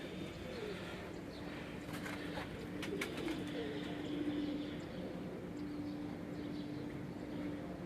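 Lal Pari breed pigeons coo softly in the background of a steady outdoor ambience, with low murmuring voices nearby.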